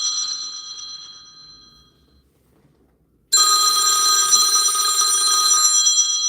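A telephone bell rings close and clear in a home during a live tarot stream, one ring fading out, then a pause of silence before a second loud, buzzing ring starts.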